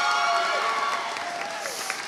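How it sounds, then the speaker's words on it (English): Audience applause and scattered cheering at a high school graduation ceremony for the class of 2023, a steady wash of clapping and crowd noise heard from a distance and filling the whole moment. "Give a round of applause for them"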